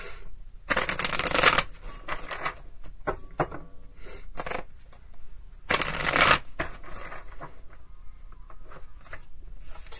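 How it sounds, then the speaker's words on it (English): Tarot or playing cards being shuffled for a reading, two loud riffling bursts with softer card slaps and handling noises between them, close and with no talking. "Just shuffle and throw them down."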